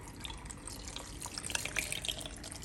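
Water poured into a blender jar holding quartered tomatoes, a garlic clove and a piece of onion, a steady close splashing trickle of about a cup and a half running for a few seconds.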